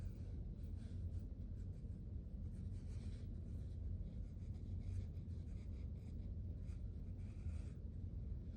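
Pencil drawing a contour of a hand on paper, a faint, steady scratchy rustle of graphite moving continuously across the page, close and quiet with no talking.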